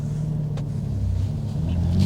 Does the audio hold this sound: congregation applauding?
no